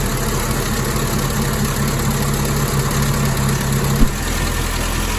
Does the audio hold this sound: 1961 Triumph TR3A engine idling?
yes